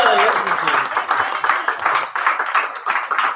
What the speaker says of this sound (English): let's give another round of applause for Katie